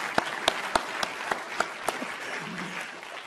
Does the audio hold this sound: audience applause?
yes